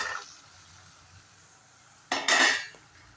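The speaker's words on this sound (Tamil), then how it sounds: "நல்லா கிளறி விட்டுக்குங்க" A spoon clinks and scrapes through a pan of beans curry with chana dal, one short burst of metal-on-pan stirring after quiet, near and clear with no talk.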